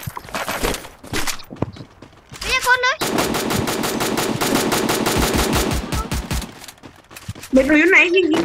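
Rapid automatic gunfire from the Free Fire video game crackles in long, loud bursts with brief single shots, broken by short gaps, while voices call out at moments in between.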